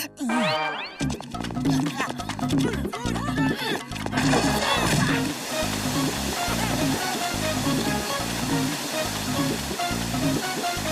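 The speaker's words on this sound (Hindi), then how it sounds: "झरने का पानी आ गया।" Cartoon waterfall water rushing and gushing in, a loud continuous wash of noise that builds after a few seconds, with brief voices and music-like tones early on.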